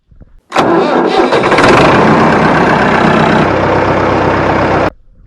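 Massey Ferguson 245 tractor engine cranking briefly and catching, then settling into a loud, steady diesel run before abruptly cutting off.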